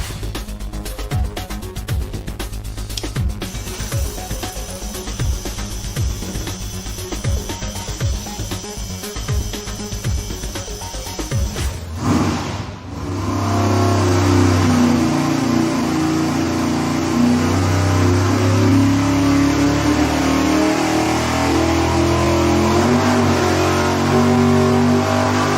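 A supercharged engine on a dyno at 5 psi of boost first revs in short choppy bursts, then roars into a loud, sustained full-throttle pull that holds strong for the rest of the run.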